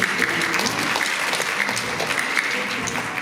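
An audience at a choral festival and competition event applauds steadily throughout, a dense and even clapping with no break, heard fairly close in a hall.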